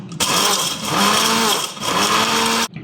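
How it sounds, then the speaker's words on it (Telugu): A mixer grinder whirs loudly and steadily grinding whole spices with bay leaves, briefly dipping in speed mid-run before surging again, then cutting off abruptly. "కొంచెం మిక్సీ అయితే పట్టుకున్నాం"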